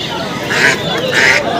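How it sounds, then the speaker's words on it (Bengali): Two loud, nasal goose honks close by at a pigeon and poultry market, spaced about half a second apart over a low background murmur. "এই দেখতে পাচ্ছ রাজহাঁস রয়েছে"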